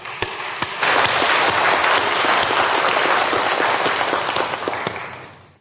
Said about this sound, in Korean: 박수 한번 드릴게요.